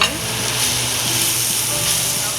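Flour toasting in a pan for creamy chicken mushroom marsala, a loud, close, continuous sizzle and hiss with faint stirring, no clear talking.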